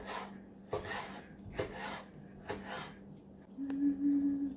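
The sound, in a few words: slicing beef tripe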